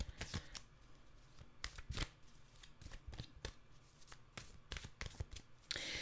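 Tarot cards are shuffled close up, with quick crisp riffles and flicks repeating irregularly throughout, quiet and without talk.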